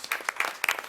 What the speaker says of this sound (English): Again, one more round of applause.